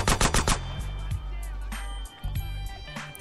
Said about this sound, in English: I didn't know we were supposed to shoot him.